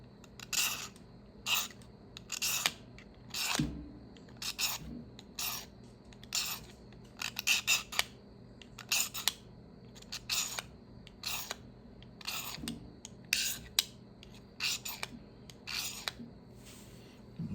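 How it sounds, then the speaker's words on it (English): An Opinel No. 9 knife shaves curls off wood in repeated short scraping strokes, some quick pairs and clusters, close and fairly quiet over a faint background hum. "See if it'll shave off some nice shavings off of it."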